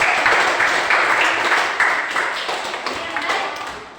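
Hand clapping from a class of students in a school lesson: a short burst of brisk, moderately loud claps that gradually tapers off.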